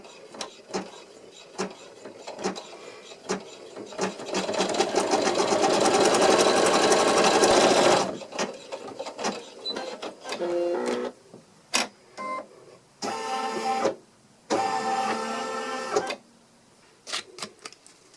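An embroidery sewing machine stitches a napkin ring in a hoop, running in a continuous rapid whir for several seconds, then in shorter start-stop bursts of mechanical stitching, close and with no talking.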